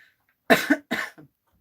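A person fighting a cold coughs twice in close succession, loud and close to the microphone, with a short throat-clearing sound trailing after.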